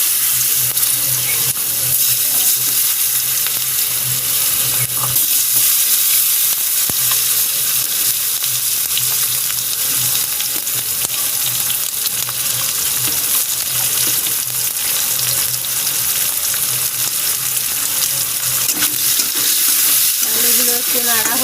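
Potatoes frying in mustard oil, along with chillies, in a pan after a fish head was fried; a continuous loud sizzle with occasional scrapes of stirring, no voices.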